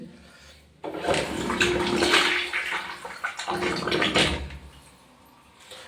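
A plunger works a blocked household drain, forcing water through in loud gurgling, sloshing surges, with a brief dip midway before the water rushes again.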